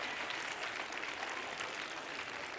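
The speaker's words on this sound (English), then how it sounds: "Another round of applause, please, for the Mzansi tenors." Audience at a theatre awards ceremony applauding a group of tenors, a continuous even wash of clapping from a large crowd, heard fairly distant and soft with no speech.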